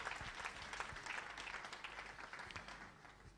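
Church congregation applauding during a bishop's sermon, a dense, even wash of many hands clapping that carries steadily at a faint, distant level for several seconds.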